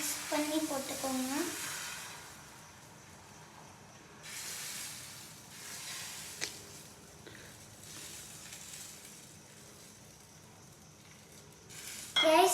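Tomato omelette batter sizzles on a hot griddle with a soft, steady hiss that swells briefly in places and stays fairly quiet throughout, with a louder burst right at the end.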